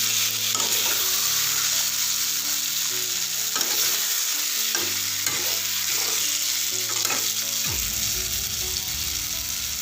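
Spices fry in oil for a jackfruit curry, a continuous close sizzle with repeated scrapes and stirring knocks of a spoon in the pan, no voices.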